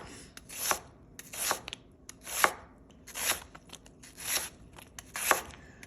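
A knife cuts onions into matchstick strips on a board in steady strokes, six or so crisp, close slicing chops spaced about a second apart, with no talk over them.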